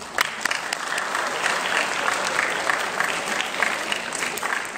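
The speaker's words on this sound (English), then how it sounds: "give them another round of applause" Dense, steady applause from a large audience at a high school anti-bullying assembly at Marjory Stoneman Douglas, a continuous wash of many clapping hands, close and loud throughout.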